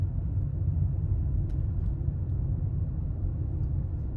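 A Toyota Prius Prime driving with its petrol engine running, giving a steady low rumble of engine and road noise throughout with no talk.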